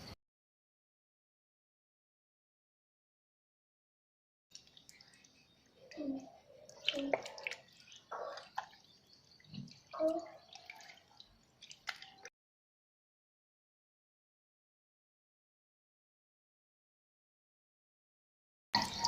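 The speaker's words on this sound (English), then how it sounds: "And now we have to rinse the hands." Water rinsing hands during a handwashing demonstration, heard as a few seconds of splashing and squishy wet rubbing, moderately close, between stretches of silence.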